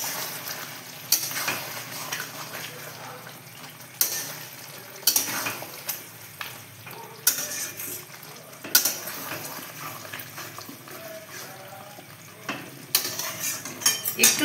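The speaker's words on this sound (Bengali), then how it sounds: "আবারও একটু কষবো।" A spoon repeatedly stirs and scrapes curry being sautéed (kosha) in a frying pan, with sharp metallic clanks recurring every second or two over a low, steady sizzle, close up and without talk.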